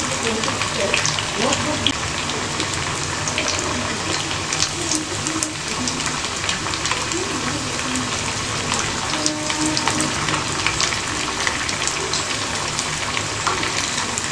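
Pieces of colocasia (taro root) fry in hot oil with a steady, dense crackle and sizzle that runs throughout, while a voice speaks over it at times.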